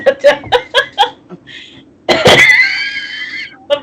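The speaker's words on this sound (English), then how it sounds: "I've made myself cough now." A string of short coughing bursts comes first, followed by a longer, louder coughing, throat-straining fit, all close and loud with brief gaps between them.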